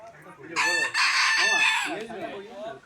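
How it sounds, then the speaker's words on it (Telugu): Chickens of several varieties in a park near a rock arch: a loud rooster crow rises and falls over about two seconds, with softer clucking from other birds before and after, all close by. "ఐదారు రకాలు ఉన్నాయి వెరైటీస్ కోళ్ళు కూడా"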